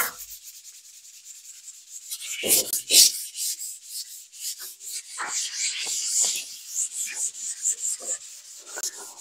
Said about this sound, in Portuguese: agora é só entrar com a lixa 220. Só quebrar as partes altas.